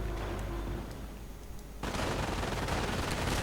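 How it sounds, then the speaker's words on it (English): Machine gun fire in a WWII strategy video game: a dense, continuous rattle of rapid bursts that swells suddenly partway through and stays loud, blended with distant battle noise. "And quite a bit of MG fire to join in"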